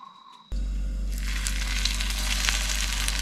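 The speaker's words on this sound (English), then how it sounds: "Oh, sizzle, sizzle." Breaded fish pieces drop into a hot frying pan at a campsite, setting off a loud, steady close-up sizzle with crackling pops that continues to the end, with no talk over it.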